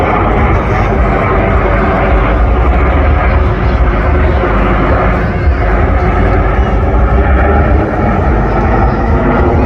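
Red Arrows jets fly a Typhoon roll at a Blackpool air display, a loud continuous roar of jet engines filling the whole stretch, with a commentator's voice underneath.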